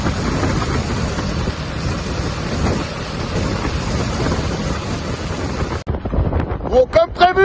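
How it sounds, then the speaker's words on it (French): Strong wind buffets the microphone in a loud, continuous roar while travelling through Argentina during a storm, dropping briefly near the end before gusting again in uneven bursts. "il y a un vent à déborder"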